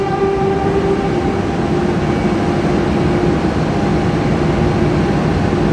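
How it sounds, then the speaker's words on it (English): RENFE Euromed train departing Barcelona Sants station, a steady loud rumble with sustained electric motor tones humming close by inside the carriage, no voices. "The train is going to depart, so we will record the departing."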